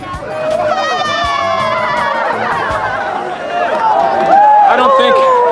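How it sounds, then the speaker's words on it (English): A crowd congratulates survivors of an ice dive in a frozen city in China, a dense, close babble of many overlapping voices calling and chattering that swells louder toward the end. "survivors receive the congratulations of the crowd"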